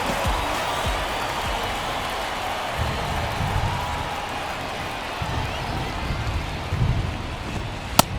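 Steady rain hisses across an outdoor ballpark during a Padres–Dodgers baseball game, a constant broadband wash with faint crowd murmur beneath and a sharp click near the end.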